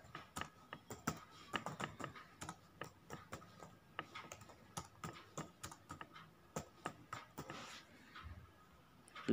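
Fingers type steadily on a computer keyboard, a quick run of close, crisp key clicks with short pauses between bursts and no talking.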